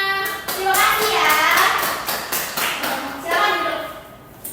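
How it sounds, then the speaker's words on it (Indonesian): A classroom group claps hands in a quick rhythmic burst, close and fairly loud, with children's voices and chatter running over the clapping. "Oke, tepuk tangan semuanya."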